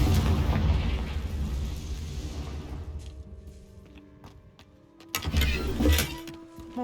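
A Confringo spell in the video game Hogwarts Legacy bursts into a loud fiery explosion with a long roaring rumble that fades out. Sharper crackles and a second burst follow near the end.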